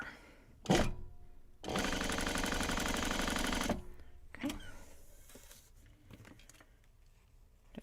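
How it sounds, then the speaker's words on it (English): A sewing machine stitches a quilt block by foundation piecing, one close two-second burst of rapid rhythmic whirring and clatter, with fabric handling and soft clicks before and after. "We'll just stitch across here."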